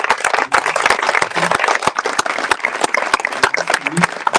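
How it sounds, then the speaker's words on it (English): Press conference audience applauding the Red Bull X-Alps world champion, close crisp hand claps at an irregular brisk rhythm with murmured voices and cheering mixed underneath. "This is also worth a round of applause as well"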